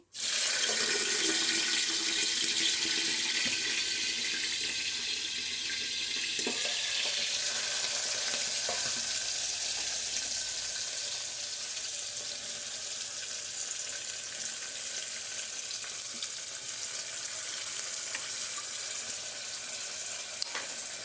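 Onions and green chillies with cumin and mustard seeds fry in hot oil in a pan, a steady, loud sizzle that runs continuously from start to finish with no talking.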